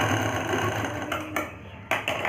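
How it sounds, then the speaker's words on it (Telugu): A sewing machine stitches blouse lining with a steady close mechanical whir, pausing briefly and then starting again. "ఇప్పుడు నేను కదలకుండా ఒక స్టిచ్ వేసేసుకుంటున్నాను."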